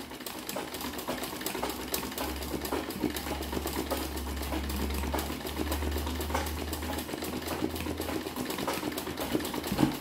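A machine-embroidery sewing machine stitches a sunflower-in-vase design, giving a steady, continuous mechanical whir with a low hum that lasts throughout.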